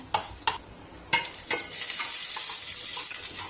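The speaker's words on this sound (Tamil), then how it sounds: "அது நல்லா கடலைப்பருப்பு நல்லா கலருக்கு வந்து கொஞ்சம் லைட்டாக செவக்கிற அளவுக்கு வறுத்துக்கலாம்" Chana dal, split chickpeas, frying in hot oil for a hotel-style potato masala, with a steady high sizzle that swells and holds while a few spoon scrapes and stirring clicks sound close by.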